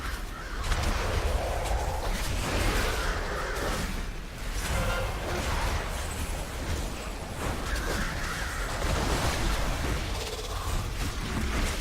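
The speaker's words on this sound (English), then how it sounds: "Oh, I didn't use my Murder of Crows." The Murder of Crows ability in World of Warcraft fills the air with harsh crow cawing in repeated bursts over a dense, noisy battle background, steady and loud throughout.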